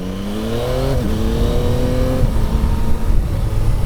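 A 2024 Yamaha XSR900 GP motorcycle engine revs hard under acceleration, its pitch climbing steadily, dipping briefly at a gear change, then climbing again, loud and close with steady wind roar.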